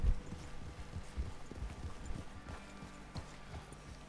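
Horse hooves clip-clop in Red Dead Redemption 2, a fairly quiet, uneven walking rhythm of soft thuds heard close by with no talk.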